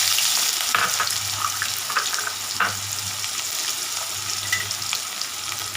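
One large chopped onion goes into hot oil with cumin for appalam poo kootu, producing a steady, dense sizzle with occasional stirring clicks, loud and close throughout.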